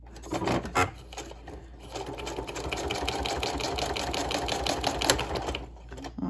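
A sewing machine runs in a rapid, steady clatter of stitching for several seconds, with a few quieter starts and stops around it.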